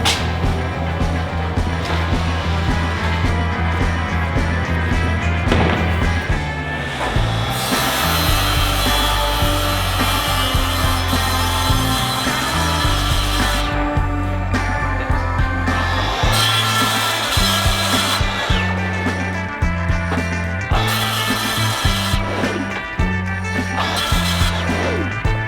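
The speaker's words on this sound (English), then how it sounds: "try and cut this curve out of a jigsaw" A jigsaw cuts a curve through a composite panel with a steady, loud buzzing rasp that shifts pitch as the blade works the curve and runs continuously throughout.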